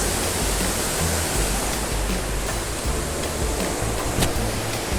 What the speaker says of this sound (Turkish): Oo, böyle bir şelalemiz de var. Bakın çok güzel akıyor sular.